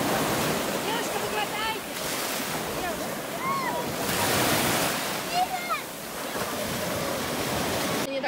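Sea waves washing onto the shore in a steady, loud roar with wind buffeting the microphone, while people talk faintly over the surf.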